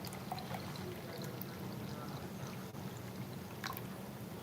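Water pours into a measuring cup for cooking polenta, a soft, continuous trickling gurgle at low level with a few faint clinks, heard close by without speech.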